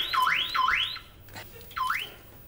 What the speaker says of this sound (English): your car alarm's set off by a bird dropping